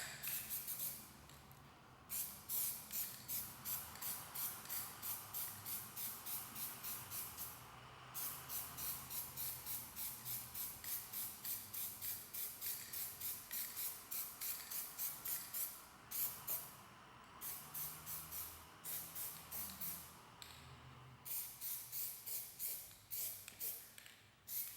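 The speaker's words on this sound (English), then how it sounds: "I'm gonna go ahead and lay down another coat just to see." Spray can laying down another coat of chameleon Plasti Dip, a rapid series of short, rhythmic hissing bursts with brief gaps between passes, fairly close and alone.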